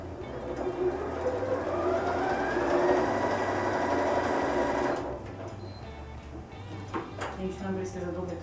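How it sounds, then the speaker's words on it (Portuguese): A sewing machine stitches a seam across patchwork squares with a steady, close, rapid mechanical hum for about five seconds, then stops and leaves fabric handling and small clicks. "vou passar outra costura em cima do risco"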